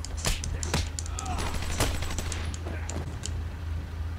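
Rapid bursts of gunfire from enemies in the Batman: Arkham Asylum video game, several sharp shots spread across a few seconds over a steady low game background hum.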